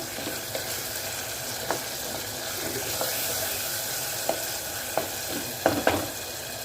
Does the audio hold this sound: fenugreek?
yes